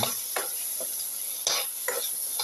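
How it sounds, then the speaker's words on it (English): Potato pieces stirred in a frying pan, with a spoon scraping through them in several loud, rhythmic strokes over a steady sizzle close by. "mix the potato piece"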